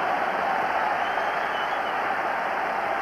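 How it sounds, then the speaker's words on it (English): A football stadium crowd at a Rangers match cheers steadily as 19-year-old Charlie Miller warms up, a dense, continuous roar of voices and applause with no break across the whole stretch. "So a great cheer goes up as Charlie Miller starts to warm up"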